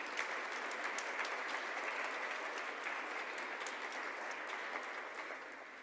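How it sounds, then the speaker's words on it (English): Audience at an awards presentation gives sustained applause, a dense, even patter of many hands that holds for several seconds and tapers slightly at the close, with no voices over it. "That one does deserve applause."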